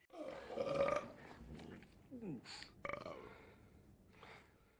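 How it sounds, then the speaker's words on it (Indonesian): A man burps over and over, a string of throaty eructations with gasping breaths between them, close and moderately loud, after a bout of indigestion from eating berries. "Pria tersebut sendawa secara terus-menerus"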